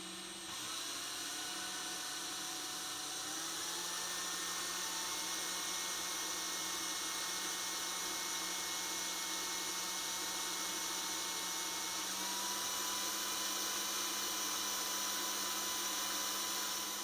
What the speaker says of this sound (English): I'll try to lower the audio too so you don't have to hear all the drilling